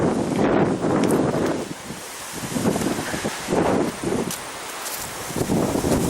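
Gusty wind blows through tall Tasmanian blue gum trees, with leaves rustling in broad surging waves as gusts rise and fall, heavy wind buffeting on the microphone and no voices.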